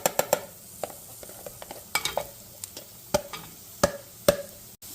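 Onion and mushrooms sautéing in garlic and olive oil for a creamy lemon shrimp pasta, heard as a soft sizzle broken by repeated sharp clicks and scrapes of stirring, close and without talk.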